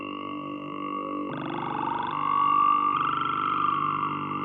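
In Pigments 3, a vowel wavetable runs through a formant filter, producing a sustained, vocal-sounding synth drone with resonant peaks that sweep and shift in character, stepping through several changes at moderate level, with no voices.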